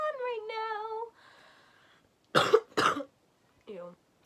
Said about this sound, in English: I coughed like an old man